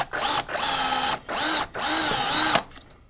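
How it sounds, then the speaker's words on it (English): A power drill boring into the soft aluminum primary cover of a Harley, heard up close as four loud whining bursts of high-pitched whirring separated by short pauses. "We're going to just let the drill bit do the work. It's aluminum. It's soft."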